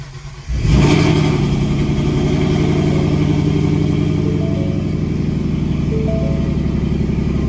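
A Ford Mustang S550 engine cranks and fires after a tune, then settles into a loud, steady high idle with light revving, close up and with no voices.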